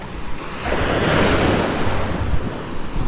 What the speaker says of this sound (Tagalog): tayo nandito sa dagat, no? At may alon ngayon, may alon